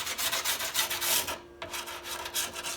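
A deburring stone rubs flat along a snowboard's metal edge in repeated quick strokes, a close, gritty scraping rhythm with a brief pause midway.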